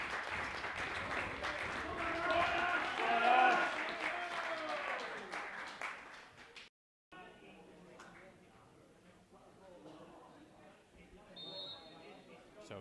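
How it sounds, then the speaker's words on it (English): Applause from the home crowd at a Northern Premier League East football match between Stocksbridge Park Steels and Belper Town as a player is substituted, distant clapping and crowd noise beneath close commentary, then a brief dropout and quieter ambience with talk. "plenty of applause from the Breckenmore crowd"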